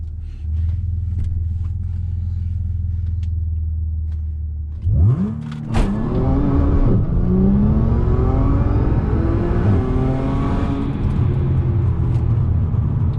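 An Audi S4 with a dual pulley idles with a low rumble, then launches hard with wheel spin, the engine revving up through rising whining gear pulls, loud and close.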